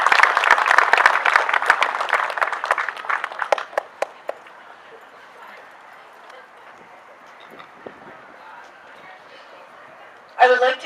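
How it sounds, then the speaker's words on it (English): Audience applause at a public speaking event, a dense burst of clapping that starts loud and fades over about four seconds, then quiet room tone before a short renewed flurry of claps near the end. "And certainly, I'll take the applause."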